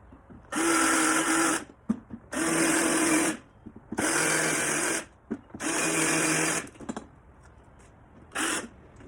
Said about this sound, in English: I'm just going to start drilling those out